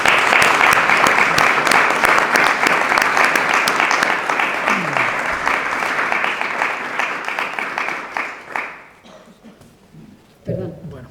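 A seated audience at a project presentation claps for the presenter, a loud, sustained round of many hands lasting about eight seconds before dying away into quiet room sound and a brief voice.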